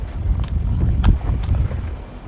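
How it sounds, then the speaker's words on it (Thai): Gusting wind outdoors buffets the microphone in a steady low rumble with brief louder swells, heard alone without talk. "โอ้มีลมเว้ย"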